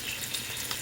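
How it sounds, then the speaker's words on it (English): Oxtails rubbed with seasoning brown in a hot pan, giving a short, steady sizzle and frying hiss. "rubbed it all into my oxtails, and I'm browning them"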